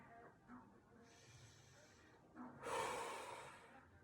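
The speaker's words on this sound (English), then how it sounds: "And we're gonna breathe here." Audible breaths during a standing yoga balance pose: a soft inhale near the start, then a longer, louder exhale around the middle-to-late part, close and breathy, with no talking.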